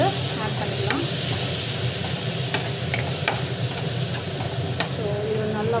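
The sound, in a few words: ginger garlic paste being sautéed in a pan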